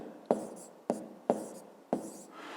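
A math solution being written by hand, four separate taps and scratches of a pen or chalk at uneven intervals, close and fairly quiet.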